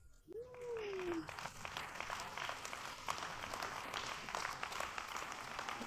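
Faint, distant audience applause during a church sermon fills the space as a thin, steady wash of many hands clapping, opened by a brief sliding tone at the start.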